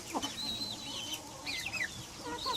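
A hen hatched from an earlier brood of chicks clucks softly in a few short, scattered calls, with higher chirps from other birds around in a quiet farmyard.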